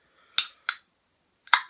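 A drink container being opened, three sharp close clicks or snaps, two in quick succession and one after a short pause, against silence.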